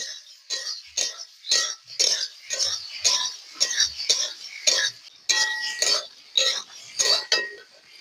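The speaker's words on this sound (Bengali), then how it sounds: "এবার আলুগুলো আমি দিয়ে দিচ্ছি ভেজে রাখা এবার দিয়ে ভালো করে একটু কষে নেব" Fried potatoes are stirred and pressed in a pan while cooking fish jhal, with repeated scraping and clinking strokes of a spatula against metal in a steady rhythm, close and fairly loud, no talk.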